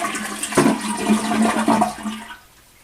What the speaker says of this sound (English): close the valve, flush the toilet